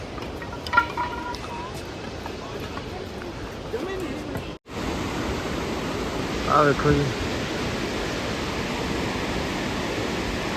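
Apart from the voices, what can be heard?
fast-flowing mountain stream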